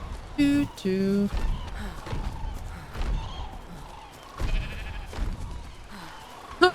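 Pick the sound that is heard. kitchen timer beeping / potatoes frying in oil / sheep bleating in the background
sheep bleating in the background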